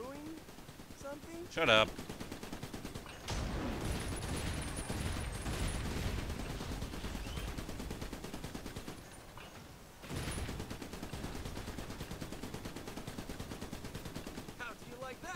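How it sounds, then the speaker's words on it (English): Sustained machine-gun fire from the video game Trenched, aimed at aerial enemies, rattles in long continuous bursts with a short pause midway, preceded by a brief loud hit, while a player speaks briefly. "Hopefully that machine gun can take care of it."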